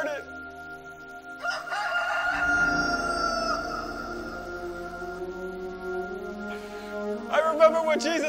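A rooster crows loudly and close by, a long drawn-out call that sustains for several seconds and then trails into a second rising call near the end, heard alone.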